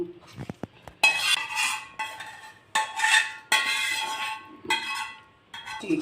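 A spoon stirs hot tempering through red chilli pickle in a metal vessel, producing repeated bursts of scraping and clinking in several separate strokes, fairly close and loud, with no talking.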